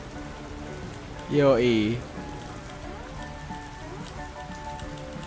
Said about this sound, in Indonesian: Duh, kalau cuaca hujan begini rasanya enak.